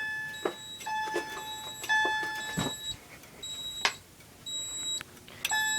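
Repeated electronic beeping and chirping tones from a photoelectric smoke detector in a drop ceiling during a system test, several short bursts spread across the clip, fairly clear in a quiet room.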